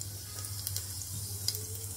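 Cumin seeds crackle and sizzle in hot ghee inside a pressure cooker while khichdi is prepared, a steady quiet frying hiss broken by a few small pops, with no voices.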